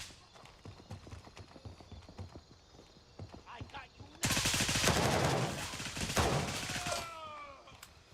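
An automatic rifle emptying a whole magazine in Gray Zone Warfare, a dense, loud unbroken burst of rapid shots that follows sparser rhythmic tapping and then trails off into ringing.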